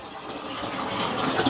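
Tap water runs steadily onto a small mini hydro turbine, a continuous close gush heard alone for a brief moment.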